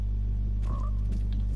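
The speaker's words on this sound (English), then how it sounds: "That's a frog." A frog in the Fortnite video game gives a single croaking call midway, clear above a constant low electrical hum, with a fainter second croak shortly after.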